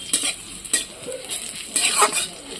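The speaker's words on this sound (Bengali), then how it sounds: "তাহলে আমার পেঁয়াজ ভাজা হয়ে গেছে আর শাকটা দেখো দিয়ে দিচ্ছি" Greens are tipped into frying onions in a pan over a bamboo-fed wood fire, a constant crackling sizzle with repeated scraping stirs and a louder hiss burst toward the end.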